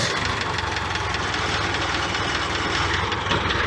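A Komatsu wheel loader's diesel engine idles close by, a steady low rumbling chug with a fine regular knocking pulse and vibration, continuous and loud with no voices.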